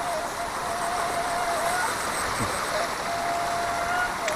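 Steady broadband rush of river water flowing beneath a spot near the stream, continuous and fairly close, with a faint tonal hum and some background voices.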